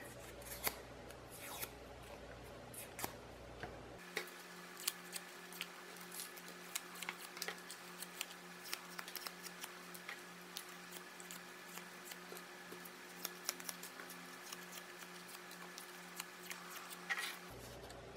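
Paper strips being curled to form paper loops, giving soft, close scraping and snipping-like sounds that repeat in a quick, irregular rhythm, faint and steady over a low hum, with no talking.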